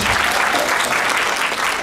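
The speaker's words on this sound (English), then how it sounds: "Let's give them a round of applause for their beautiful banners" Audience applause fills the room at a Pixar panel event, a dense, steady wash of many hands clapping close and loud for the full stretch, with no pauses.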